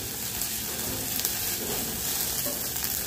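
Chopped onion frying steadily in a pan for a creamy chicken pie filling, a loud continuous sizzle with faint crackles and no talk.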